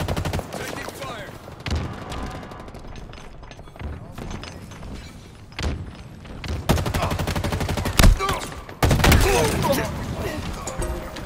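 Gunfire in the video game Halo Infinite, with automatic weapon bursts that build from scattered shots into loud, sustained rapid fire, mixed with game sounds and a voice speaking over the combat.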